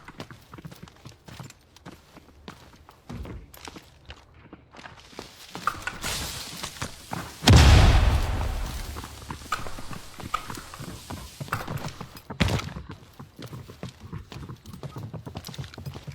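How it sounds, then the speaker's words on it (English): Footsteps thud and clatter in the Delta Force video game during a Tidal Prison exhibition match, rapid irregular steps throughout, with a loud crash burst near the middle and scattered effects. "You just hear all the footsteps."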